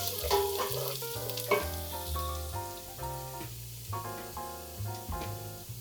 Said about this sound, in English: I'm gonna go ahead and add the minced garlic